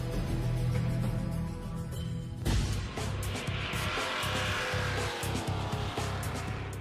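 Race cars roar around a motor speedway, a loud continuous engine wash with a sharp surge partway through as cars sweep past close by, followed by steady pulsing engine noise.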